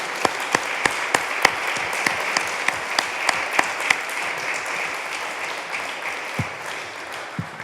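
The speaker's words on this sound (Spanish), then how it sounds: "Por favor, un aplauso al equipo de Musa." An audience applauds the Musa team at an exhibition catalogue launch, with steady applause and several sharp individual claps standing out nearby throughout.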